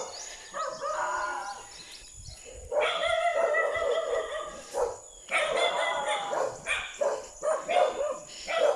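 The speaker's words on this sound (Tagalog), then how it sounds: "Kami ay tinatahol na ng mga aso." Several dogs bark in repeated bursts, some near and loud, with short pauses between volleys and faint birdsong in the background.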